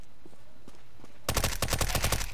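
Rapid bursts of automatic gunfire in the CS:GO Danger Zone video game on the Blacksite map, loud and close, cutting in suddenly after a quiet stretch with faint footsteps.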